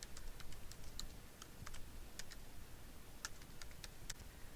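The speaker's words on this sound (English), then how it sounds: "adding a comma, and typing my secondary email" Computer keyboard keys clatter in quick, irregular bursts of sharp clicks at close range with no talking, like someone typing an email address into a web form.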